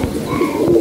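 A Kalpitti pigeon gives a brief, soft cooing call, close by, over faint background noise.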